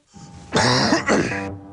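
A person coughs close by in two harsh, throaty bursts, one right after the other.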